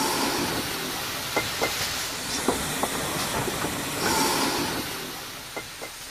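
A train rolls along the track with a constant rushing hiss, broken by scattered metallic clicks and clanks.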